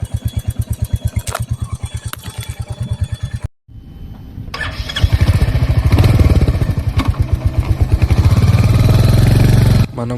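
A 350cc motorcycle engine thumps in a steady, rapid idle, cuts out briefly, then restarts and revs to a louder, rough, sustained roar close by.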